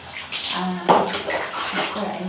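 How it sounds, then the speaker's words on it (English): Water runs steadily from a tap while someone washes their face at close range, with splashes and a voice talking over the flow. "I just wash my face and then"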